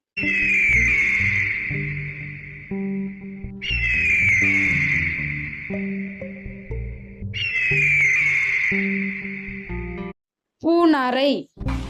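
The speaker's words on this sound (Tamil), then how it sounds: "கழுகு" An eagle gives three long, loud, drawn-out screaming calls, evenly spaced, followed by a short burst of a different warbling bird call.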